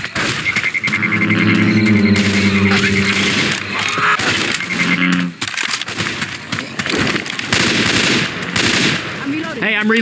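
Rifle fire in the video game Left 4 Dead 2 in a swamp setting, rapid loud bursts of shots mixed with harsh crunching impacts and game noise, with character voices calling out over the action.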